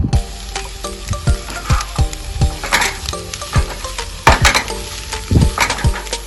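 Chili, peanuts and other ingredients with a pinch of salt sizzle steadily in a pan at a backyard camp cookout, with frequent clinks and scrapes of a utensil stirring against the metal, close and fairly loud, no talking.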